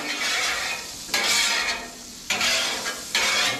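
Asparagus spears fry and get stirred in bacon grease on a Blackstone griddle. A steady close sizzle swells in loud bursts about every second as they are tossed, with faint scraping and clinks.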